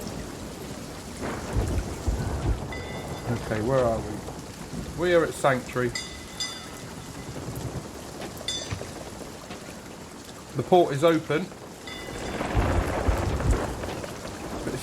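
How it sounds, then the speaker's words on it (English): Rain pours steadily through a thunderstorm in Legend of Monkey Island, with low rumbles of thunder under the hiss. Someone talks over the weather for much of it. "But it's raining in the middle of a storm."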